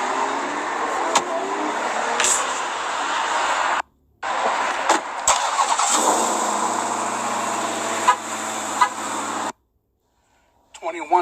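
A Mercury Marauder, a red-seated car in immaculate shape with only 10 miles on it, runs its engine in a steady, loud, near rumble that stops abruptly twice, with a brief restart at the end, as people talk.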